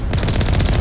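Automatic gunfire in Mass Effect 1: a brief, loud, close burst of rapid shots in a tight regular rhythm, with no speech over it.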